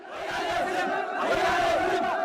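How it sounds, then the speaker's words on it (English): Crowd of anti-government protesters in Addis Ababa, Ethiopia, chanting together at a large gathering; a loud, continuous mass of raised voices with rising and falling calls, steady and close throughout. "Their chants of "We need justice""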